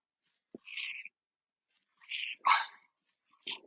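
A little dog gives short, sharp yaps in scattered bursts, two close together near the middle, fairly faint and somewhat distant in an otherwise quiet room.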